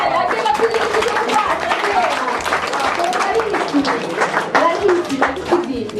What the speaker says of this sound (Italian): Vabbè, facciamo un applauso